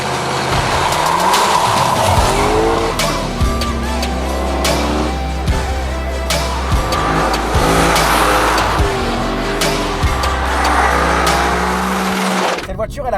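Lexus LC500 with a naturally aspirated V8 driving hard, engine loud and up close with rising and falling revs and some tire squeal, while someone talks over it throughout.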